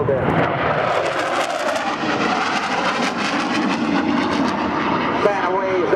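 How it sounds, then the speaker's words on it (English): An F-4 Phantom jet makes a high-speed pass at the 2009 Randolph AFB airshow, a loud, continuous roar that holds steady for the whole six seconds. "F4 Phantom in a high-speed pass."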